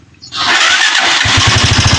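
A Honda TMX 125 Alpha motorcycle starts by push button: a brief starter whir catches at once into a loud, steady, thumping idle up close.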